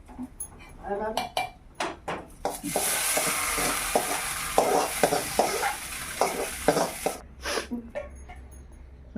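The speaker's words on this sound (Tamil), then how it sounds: "நெடி எரிச்சு தாளிப்பு போட்டாங்க" Spices crackle and sizzle in hot ghee for several seconds, with the clink and scrape of a utensil stirring in a pan before and after.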